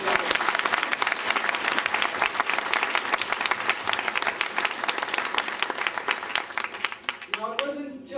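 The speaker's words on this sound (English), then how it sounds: "Give this guy a good round of applause." Dense, sustained applause from an audience at a retirement party in Schreiber fills the room for several seconds, then thins out as a voice begins speaking near the end.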